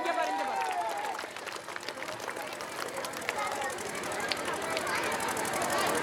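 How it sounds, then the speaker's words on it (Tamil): Audience applause at a school annual day event in Tamil Nadu, heard as a steady, dense spread of clapping with crowd noise filling the hall for several seconds, without any clear speech over it. "பரத்த கரகோஷங்களை எழுப்புமாறு கேட்டுக்கொள்ளப்படுகிறது."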